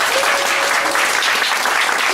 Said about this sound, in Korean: 저기 다시 한번 박수 한번.